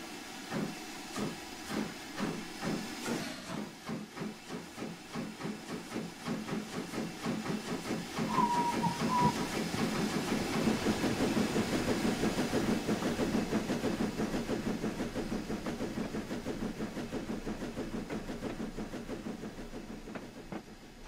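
A J50 steam locomotive in Train Simulator 2018 on the West Somerset Railway pulls away from a stand, its exhaust chuffs starting slow and steadily quickening into a rhythmic beat over hiss and rail clatter, loud and close throughout.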